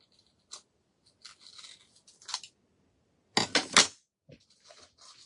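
Scissors snip through a paper napkin in short, close, crisp clicks and rustles, scattered in quick bursts with quiet gaps between them.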